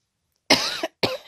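A woman coughs twice in close succession, a longer harsh cough followed by a shorter one after a brief pause, near and clear in a quiet room.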